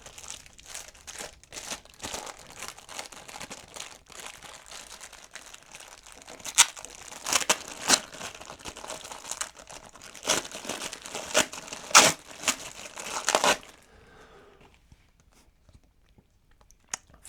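A plastic bag from an unboxing crinkles and rustles in loud, close bursts for several seconds, then it goes quiet.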